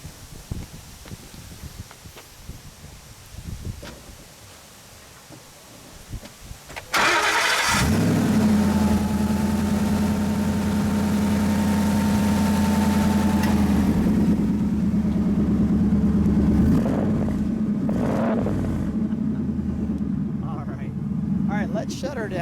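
1969 Ford Mustang Fastback crate engine cranking briefly and firing up, then settling into a loud, steady, rumbling idle up close under an open hood, with faint background noise before the start.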